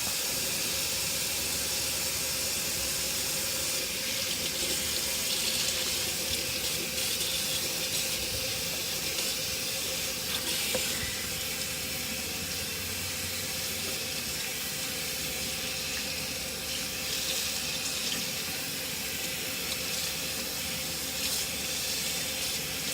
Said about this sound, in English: just going to rinse this out